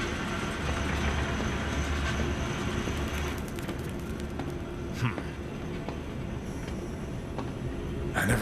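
A zoo gadget trolley train rolls steadily along in the video game Zoochosis, a continuous rumbling drone with occasional faint clicks and clanks and no talk over it.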